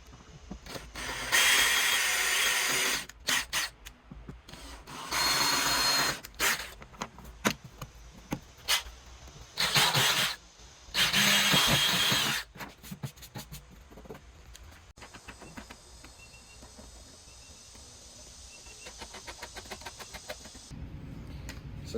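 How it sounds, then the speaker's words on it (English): A power drill drives screws to fasten a Safebox PVC mounting kit onto an ATV, running in several loud whirring bursts of a second or two each, followed by quieter clicks and handling noise, close up with no speech. "But I like using screws, so I'm going to go ahead and do that right now."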